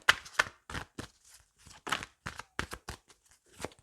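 Tarot or playing cards shuffled right beside a microphone, giving a series of sharp, papery riffling bursts in an irregular rhythm, close and fairly loud, with no speech.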